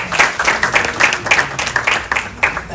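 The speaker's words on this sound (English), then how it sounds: "Round of applause." Audience applause at a talk, a rhythmic run of fairly close, loud claps with a few people clapping in loose unison.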